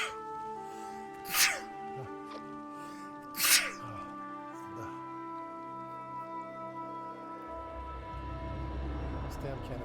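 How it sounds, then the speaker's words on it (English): Two sharp sneezes burst out over steady game background music, the second a couple of seconds after the first, both loud and close to the microphone. "This damn canister made me sneeze."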